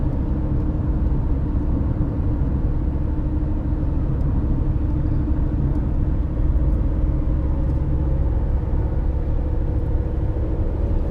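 A car rolls along the road on a trip toward New Glasgow, its steady low engine and road rumble filling the cabin continuously without pause and no one speaking.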